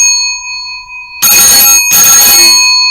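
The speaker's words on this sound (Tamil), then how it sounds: "அந்த காலத்தில் வந்து ஃபோன் ரிங்கிங் இப்படி தான் கொடுத்தாங்க." An old-fashioned telephone ring sound effect gives two loud, harsh electric bursts of ringing with a short gap between them, after a quieter steady tone.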